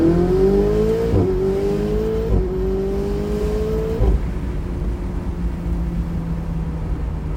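An Italian 25-year-old sports car accelerates hard to overtake, its engine note rising through several quick upshifts and then settling into a steady, loud drone. No voices are heard.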